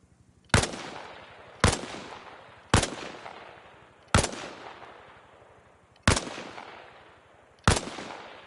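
Six separate gunshots from a rifle in Arma Reforger, each a sharp loud crack with a short decaying tail, fired at irregular intervals of about one to one and a half seconds, with no speech.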